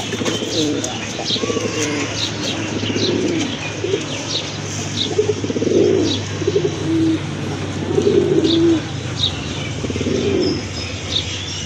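A Rajshahi Giribaz pigeon coos in repeated soft, rolling phrases close by, with a few faint chirps and brief wing rustles in a quiet room.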